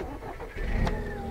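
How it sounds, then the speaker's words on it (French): A diesel van's engine, heavily sound-insulated and producing its genuine unamplified sound, turns over and settles into a low, close idle hum after a brief starting surge. "c'est le vrai son du moteur"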